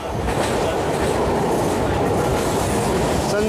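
Kota Weekly SF Express train rolling steadily along the rails near Jammu Tawi, a continuous loud rumble with faint clickety-clack of wheels from inside the moving train.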